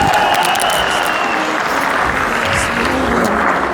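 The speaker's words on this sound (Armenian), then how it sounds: "Իսկ հիմա փեսայի կողմնա ծափեր տալիս։" Loud, steady applause from the groom's side of the wedding guests, a dense crowd of clapping hands sustained without pause, with a few faint voices mixed in.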